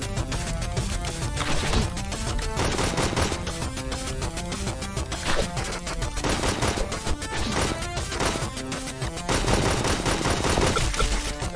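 Rapid, continuous gunfire from a gun in Inglorious Aztecs, a dense rattling stream of close, loud shots that keeps going without a break and has no talk over it.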